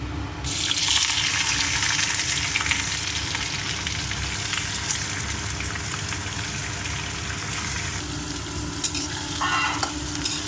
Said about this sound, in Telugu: గోల్డెన్ బ్రౌన్ వచ్చే వరకు ఫ్రై చేసుకోవాలండి ఈ ఆనియన్స్